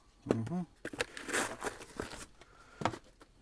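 A plastic packing bag crinkles and rustles while a knife from Malone Knife and Tool is unboxed, giving close, irregular crackling handling noises with someone talking intermittently over them.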